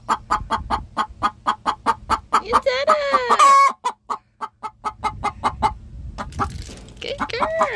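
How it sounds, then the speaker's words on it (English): A backyard free-range hen gives a loud egg song of rhythmic, repeated clucks after laying, with a brief louder squawk midway. A person speaks briefly near the end. "Or I've heard chickens do a bird song after they lay eggs."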